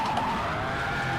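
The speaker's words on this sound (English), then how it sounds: "that's a full spin. Backwards into the barrier" A car in a racing game at the Nordschleife skids with a sustained tire squeal as it spins, brief and steady, close, with no talking.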